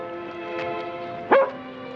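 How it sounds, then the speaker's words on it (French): A dog named Kaiser gives a single short bark or yip indoors, close by, against a faint steady hum, during a film scene. "Oui, on est un bon chien."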